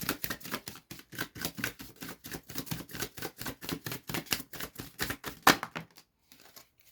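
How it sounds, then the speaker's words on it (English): Tarot cards riffled in a steady run of crisp, rapid flicks, loud and close to the microphone, ending in a brief final snap before near silence. "I do try and move the cards away from the microphone when I shuffle"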